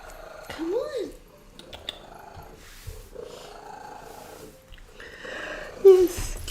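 A house cat purrs and makes small vocal sounds up close while a person talks softly over it. A brief, sharper cry comes near the end.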